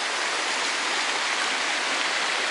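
Water gushes forcefully from a pipe during heavy rain, a loud, dense, continuous rushing hiss with no pauses.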